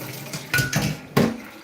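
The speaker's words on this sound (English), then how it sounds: "I'm gonna drain this water away and put a clean water." Water drains off washed beans in a pot and clean water is poured in while preparing moimoi, with two short splashing bursts and light clatter of cookware up close.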